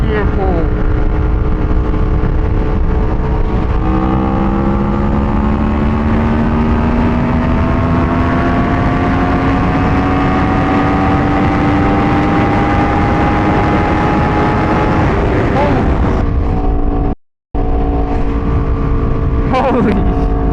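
A 2012 Aprilia RSV4 motorcycle accelerating hard in fifth gear: a loud, sustained engine roar whose pitch climbs steadily over many seconds before a brief cut and a quick return, with wind noise throughout.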